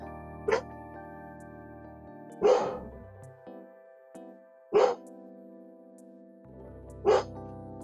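A dog barks four times at spaced intervals, each bark loud and close, between stretches of steady tonal background sound.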